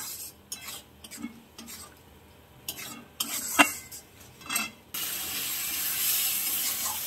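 Ground spices being stirred and scraped in a pan, a series of short metallic scrapes and clinks at close range, ending in a steady sizzle of frying. No one speaks.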